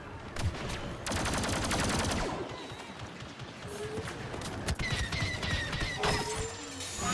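Pistol and blaster gunfire in a Star Wars Battlefront II battle, rapid bursts of shots with mechanical clanks and whines, loud and close, under game effects.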